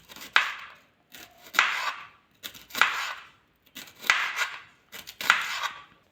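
Star fruit is sliced into star-shaped pieces with a knife: five crisp, close cuts in an even rhythm, each a short crunchy slice with a brief tail, with no voices.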